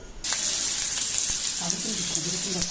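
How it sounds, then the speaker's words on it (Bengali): Chopped onion drops into hot oil in a pan that was just used to fry eggs, and a bright hissing sizzle bursts up at once and carries on. A brief murmur of voice sits under it near the end. "এরপরে দিয়ে দিচ্ছি এই তেলের মধ্যে পেঁয়াজ কুচি"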